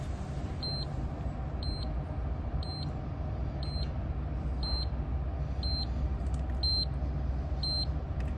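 A short electronic beep from a PVChecks One Plus solar panel tester repeats at a steady pace, about once a second, fairly faint over a constant low background hum.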